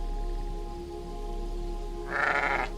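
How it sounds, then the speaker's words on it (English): A black sheep in the video game Aloft gives a single bleat near the end, loud and close over a steady low background drone. "We've got a black sheep here that I'm gonna grab."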